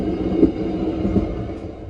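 A steady, moderate rumble of wheels and carriage noise fills the cabin of the Banyubiru economy class passenger train in Indonesia, with a couple of soft bumps and no voices.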